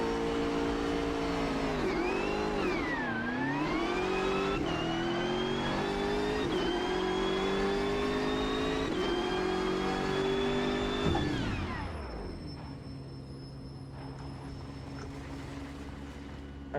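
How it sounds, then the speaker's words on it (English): A BMW M6 GT3 in the Automobilista 2 racing game loudly revs and accelerates hard through rising gear pulls toward 200 kph, then the engine abruptly drops to a low steady idle-like drone at the end. "Now, I'm going to drive down here, try and get to 200 kph and slam on the brake and see what happens."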